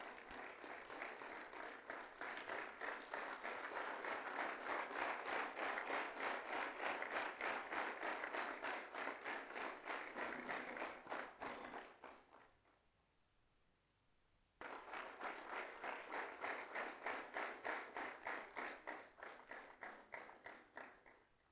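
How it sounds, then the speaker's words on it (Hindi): An audience at a Valor Day medal ceremony gives a warrior sustained, even applause. It is faint and steady, stops for a couple of seconds, then resumes just as strongly. "जोरदार तालियों से स्वागत करें इस अभूतपूर्व साक्षात योद्धा का जो हमारे बीच आज उपस्थित हैं"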